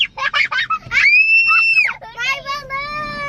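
A young child shrieks loudly inside a car, with sustained high-pitched screams between bursts of excited childish babbling, close and intense throughout.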